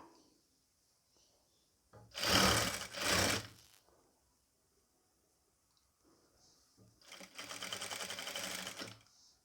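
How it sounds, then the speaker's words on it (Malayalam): A sewing machine stitches the shoulder of a nighty in two short bursts of close, whirring needle runs separated by a quiet pause, with faint handling sounds in between. "എന്നിട്ടൊന്ന് നമുക്ക് സ്റ്റിച്ച് ചെയ്ത് കൊടുക്കാം കേട്ടോ"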